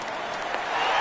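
Stadium crowd in a PS4 baseball video game cheering at a full count, a steady broad roar swelling slightly louder toward the end of the brief moment, with no commentary over it.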